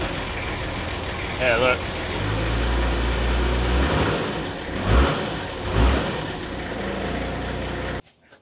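A turbocharged car engine running for the first time after a probe was fitted, droning loudly with a couple of short revs midway before cutting off abruptly. Someone speaks briefly over it.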